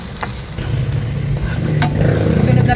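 Onion and ginger sizzle steadily in a hot pan while cooking tuna sisig, a continuous close frying hiss with occasional stirring clinks that grows slightly louder toward the end.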